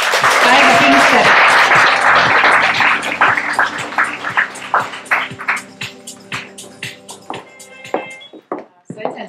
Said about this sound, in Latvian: Tāpēc visi aplausus!